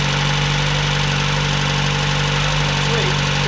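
A three-door Ford Sierra Cosworth, off the road for more than fifteen years, runs with a steady, loud engine drone that stays constant throughout, with no pauses or changes in pitch.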